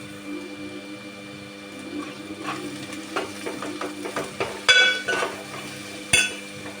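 Onions cook in a pan with ginger and turmeric under a low steady sizzle, while spatula scrapes and a few sharp metallic clinks ring out close by, and no one speaks.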